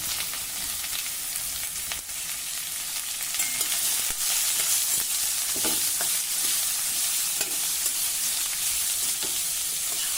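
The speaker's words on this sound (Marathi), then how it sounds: "हे मेथी दाणे आता छान तांबूस झाले की यामध्ये कापलेली कैरी घालायची आहे" Fenugreek seeds, asafoetida and turmeric fry in oil with chopped raw mango, a dense close sizzle with occasional spatula clicks and scrapes, steady and loud, no talk.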